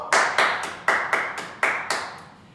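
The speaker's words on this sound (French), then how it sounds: "On s'applaudit, bravo." A small group claps in a series of about seven sharp, evenly spaced bursts, each ringing briefly in a reverberant room, close and crisp with no voices.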